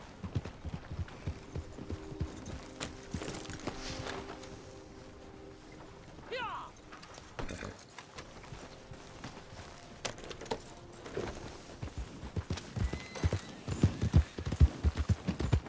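Horse hooves clip-clopping in Red Dead Redemption 2, irregular thudding steps under game ambience, growing louder and busier toward the end, with voices talking in places.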